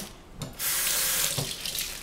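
Tap water runs into a kitchen sink, a steady close hiss and splash that swells after a brief quieter start, with no talking.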